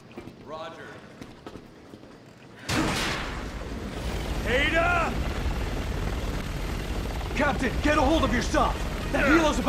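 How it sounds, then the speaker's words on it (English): An attack helicopter in Resident Evil 6 comes in abruptly as a loud, dense rotor roar that holds steady and swells slightly, with voices speaking over it. "Alright, where's the next attack chopper?"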